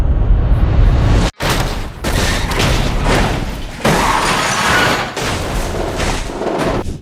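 Lightning McQueen, the animated race car from the Cars film, crashes and wrecks himself in a loud, continuous barrage of booms, thuds and smashing debris, broken by one sharp cutoff early on before the crashing rumbles back.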